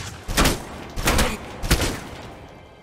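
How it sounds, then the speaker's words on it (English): Three heavy shotgun blasts fire in a slow, evenly spaced rhythm, each a loud booming report with a trailing echo, from a combat scene in the spy shooter game Alpha Protocol. "I thought I was using the shotgun"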